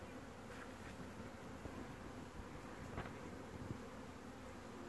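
Honey bees buzz steadily as a dense, continuous insect drone at close range, faint overall with no talking.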